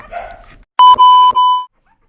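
A 19-day-old puppy gives a few loud, close, high-pitched yelping cries in quick succession, then goes quiet.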